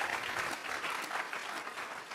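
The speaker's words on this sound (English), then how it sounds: "let's give him another round of applause" A talk audience applauds in a dense, steady burst of many hands clapping, close and fairly loud, sustained evenly without voices over it.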